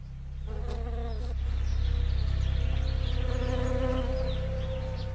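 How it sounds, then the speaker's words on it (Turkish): Honeybees buzzing in a California almond orchard at spring pollination time: a dense, continuous droning hum of many bees, close and steady throughout, with no voices. "Her baharda milyarlarca arı badem ağaçlarının polenlenmesine yardımcı olmak için buraya getirilir."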